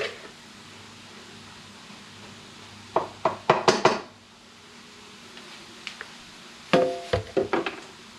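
Chopped vegetables for homemade chili tossed into a cooking pot, heard as two bursts of clattering, knocking thuds and scrapes against the pot, fairly close, with quiet gaps between.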